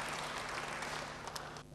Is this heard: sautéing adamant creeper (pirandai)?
no